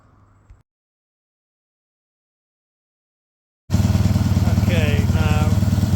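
A Triumph T140/T120 motorcycle engine ticks over at about 1200 RPM, a loud, close, steady rapid thumping idle that starts abruptly after a silent gap. A voice speaks over it.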